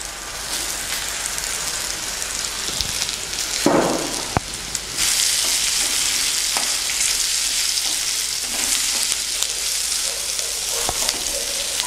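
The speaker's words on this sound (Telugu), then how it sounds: "ఆనియన్ బాగా వేగింది" Onions sizzling steadily in hot oil in a pan with dried and green chillies, a continuous close crackle with a few clinks and stirring scrapes, no talk.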